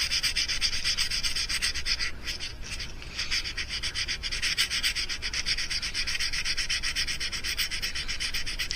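Sandpaper smooths the surface of a mouse-shaped fishing lure already shaped with a Dremel, giving a steady, close, continuous scratchy rubbing with no pauses and no talk.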